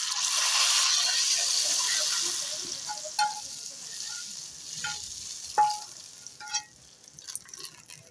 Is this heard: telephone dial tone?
no